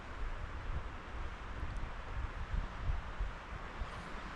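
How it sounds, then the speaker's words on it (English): Strong gusty wind of about 45 mph blowing outdoors on a cool day at a Maine deer hunt, with no microphone, roaring steadily with low rumbling buffets that surge and ease throughout, no voices. "really windy today."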